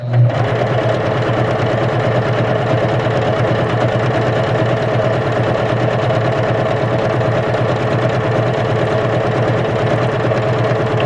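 A Juki HZL-K85 beginner sewing machine runs a curvy decorative stitch, giving a steady, fast mechanical whir and rapid needle clatter that carries on evenly for about eleven seconds.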